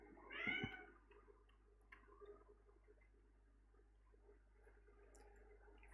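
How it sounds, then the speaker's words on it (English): A house cat named Xuca meows once, loud and close, a short rising cry near the start, followed by quiet room sounds and faint ticking. "Xuca's in the house, and she is meowing."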